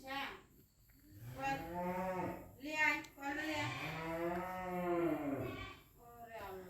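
A cow moos several times in long, drawn-out low calls, loud and close, with short pauses between them, as cows are loaded onto a vehicle.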